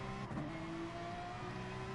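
A race car engine in a manufacturers-series race replay, heard as a close, steady engine drone that rises slowly in pitch as the car accelerates away.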